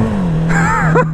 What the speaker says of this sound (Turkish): Üstünde arkadaşlar 15 bin liralık bir egzoz sistemi var motosikletin.